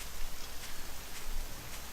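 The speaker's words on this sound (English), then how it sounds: "You're probably not going to be able to hear me because the rain is really loud." Heavy rain drums steadily during a 7 Days To Die game session, a dense broadband wash of patter that holds loud and even throughout, with no voice over it.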